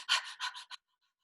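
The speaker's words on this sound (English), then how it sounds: "breathe quickly, like panting" A person pants in quick, short breaths as a breathing exercise for feeling chest movement, about five rapid huffs in a row, then stopping into silence.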